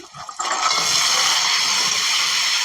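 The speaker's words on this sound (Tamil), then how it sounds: "பாருங்க, வெங்காயம் வதங்கிட்டுது. இப்போ நண்டை சேர்ப்போம்." Crab pieces are dropped into a hot pan of sautéed onions, setting off a loud, sudden burst of hissing sizzle after a brief quiet moment that stays steady and strong.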